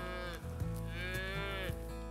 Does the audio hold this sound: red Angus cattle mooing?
yes